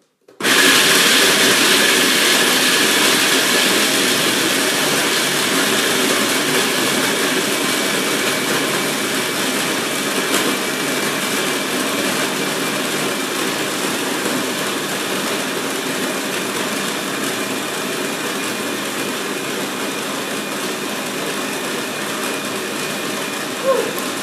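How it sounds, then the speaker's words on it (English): A kitchen blender whirs loudly and continuously while mixing walnut chocolate banana cake batter, starting abruptly and holding a steady, slightly fading drone throughout with no voices. "you can see the blender dance"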